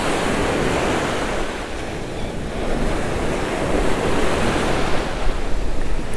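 Ocean surf breaking on a beach on an overcast early morning, a steady, loud wash of waves rolling in with gusts of wind buffeting the microphone throughout, no voices.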